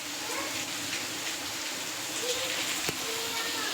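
Rain falls all around in a steady, fairly quiet hiss, with faint talk mixed in and a single sharp tap.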